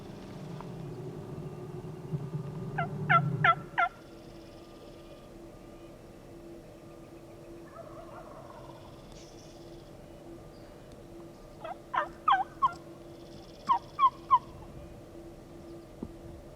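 Distant wild turkeys in the Idaho countryside, heard in two bursts of rapid, rattling gobbles, one cluster early on and several more near the end, over a quiet outdoor background with a low rumble at the start.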